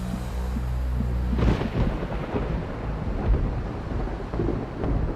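Thunder from a supercell thunderstorm rolls in low, heavy rumbles, with a sharper burst early on and a steady rain-like hiss beneath, fairly distant and moderately loud.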